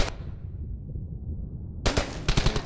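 Gunfire rings out in Brothers in Arms: Hell's Highway, a loud shot at the start fading into an echoing tail, then a rapid cluster of close bursts.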